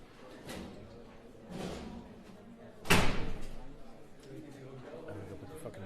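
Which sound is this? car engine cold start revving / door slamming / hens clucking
door slamming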